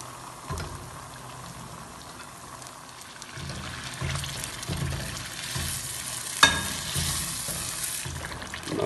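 Saag frying in a pan while a spoon stirs it: a steady sizzle and bubbling under repeated scraping strokes, building louder toward the end with one sharp clink.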